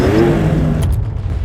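Engine of a 2026 Porsche 911 Turbo S revving loudly and close, a steady powerful drone that rises in pitch briefly before settling.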